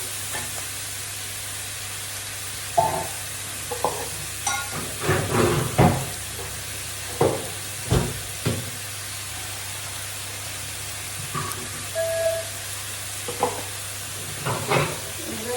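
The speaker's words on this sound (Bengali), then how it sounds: "বেগুনটা আমি বেশি ভাজা করবো না, বেশি ভাজা করলে অন্যরকম স্বাদ চলে আসে" Eggplant stirred and frying in a pan for a Bengali curry, a steady low sizzle and hiss with scattered clinks and scrapes of the spatula at irregular intervals, close by with no voices.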